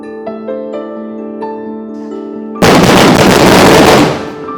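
Soft tonal ringing plays, then a loud, dense burst of firecracker blasts erupts and crackles for over a second before dying away, a ritual firecracker offering at Thriprayar Sree Rama Temple in Kerala.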